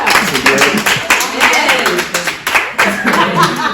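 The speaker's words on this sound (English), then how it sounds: "Let's give a hand clap." An audience claps together in a room, a dense run of sharp hand claps lasting several seconds with voices and cheering mixed in.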